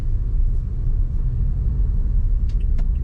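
A car driving through Cherokee, North Carolina at night, heard from inside as a steady, loud low engine and road rumble, with faint small clicks toward the end.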